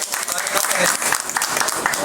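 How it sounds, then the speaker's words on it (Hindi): An audience claps steadily at a public welcome ceremony for a union minister, dense applause filling the whole moment at close range. "तालियां बजाकर"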